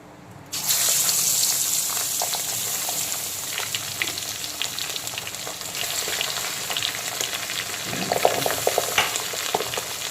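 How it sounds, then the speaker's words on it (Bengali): Pabda fish coated in salt, turmeric and a little oil hit smoking-hot oil with a sudden loud burst of sizzling, then keep up a steady crackling fry with scattered pops, close by and alone. "এখন লবণ, হলুদ আর সামান্য তেল মাখানো পাবদা মাছগুলোকে তেলের মধ্যে দিয়ে দেব"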